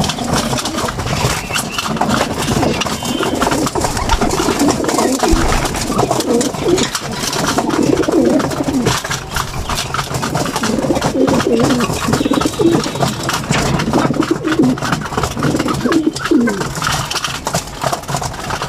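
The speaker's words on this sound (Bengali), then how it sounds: "বাহিরের যেগুলো ফ্লাই জোনের কবুতর" Flock of pigeons, including birds from a free-flying loft, cooing steadily and overlapping close by, a continuous murmur of throaty coos with rustling and no talk.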